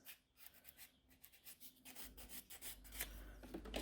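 Gel nails are filed with a 100 grit file, close, soft rasping strokes in a quick back-and-forth rhythm, quiet at first and growing a little louder and denser toward the end.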